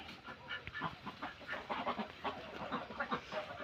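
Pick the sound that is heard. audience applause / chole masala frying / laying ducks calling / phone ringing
laying ducks calling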